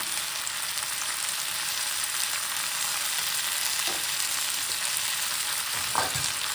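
Chutney ingredients sauté in a hot pan with a steady, even sizzle, broken now and then by a few soft scrapes of a spoon stirring, with no one speaking.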